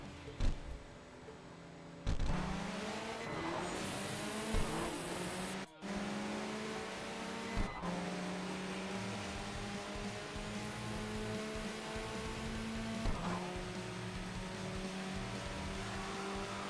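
Race car in the video game Tokyo Xtreme Racer accelerating hard on nitrous, its engine note climbing through rising gear sweeps with sharp shifts and a steady loud roar, no talk over it.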